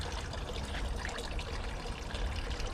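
Water trickles and dribbles steadily through the hose-fed filter system of a small garden pond, a soft continuous babbling with no talking over it.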